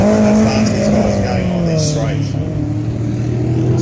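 A race car roars past close by on a Targa West tarmac rally stage in Perth, its loud engine note sweeping down in pitch as it passes, with tyre noise and people talking over it.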